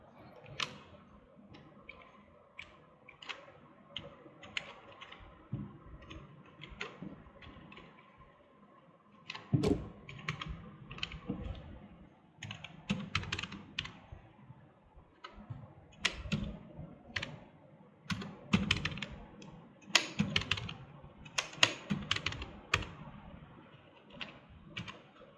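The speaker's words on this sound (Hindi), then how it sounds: "मैं कंप्लीट फॉर्मेटिंग करने के लिए सिर्फ कीबोर्ड शॉर्टकट्स का यूज़ करूंगा" Rapid keyboard shortcuts tapped on a computer keyboard while formatting a document in WordPad: irregular bursts of sharp clicky keystrokes, close and clear, with denser clusters in the second half and no talking.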